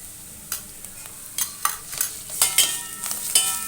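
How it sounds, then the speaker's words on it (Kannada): Ginger garlic paste frying in hot oil with onions for spinach dal, a soft sizzle broken by several crisp scrapes and clicks of a spoon stirring against the pan. "ಸ್ವಲ್ಪ ನಾವು ಎಣ್ಣೆ ಒಳಗೆ ಫ್ರೈ ಮಾಡ್ಕೊಳ್ಳೋಣ"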